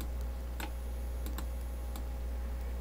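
Computer keyboard keys are pressed a few times, sparse separate clicks over a steady low hum at a desk during graphics software work, quiet and without speech.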